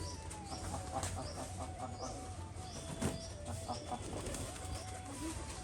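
Male tumbler pigeons call repeatedly during a flying display, with soft coos and clucks over a steady outdoor background murmur.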